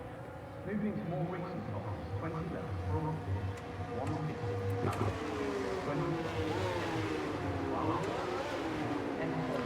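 Race car engines idling and revving as cars line up on the starting grid in the F1 23 racing game, a steady layered engine drone with rising revs, under talk.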